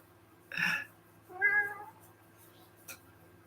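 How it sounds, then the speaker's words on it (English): A cat meows outdoors, two short separate calls close together, fairly clear against a quiet background, followed by a faint brief click. "So if you hear some meowing,"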